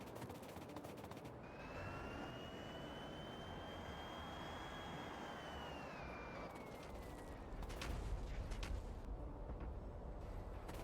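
A plane's engine drones steadily in the Factorio game, a continuous broadband roar with a rising and falling whine layered on top across the whole stretch, loud and unbroken.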